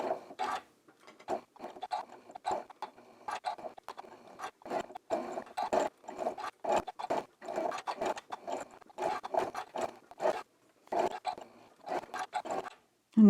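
A sewing machine with an automatic presser foot lifter stitching fabric for a quilt block, running in short bursts of rapid mechanical clatter with brief pauses between them, close and steady, with no talking.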